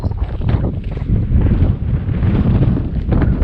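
Heavy wind buffets the microphone in low, rumbling gusts that fluctuate throughout, with no other clear sounds, in the mountains.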